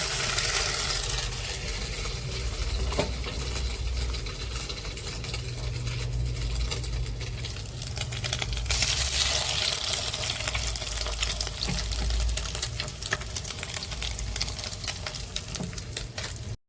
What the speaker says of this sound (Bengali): একসাথে তিনটে বসিয়ে দিয়েছি বড় কড়াইতে, ভাজা হচ্ছে।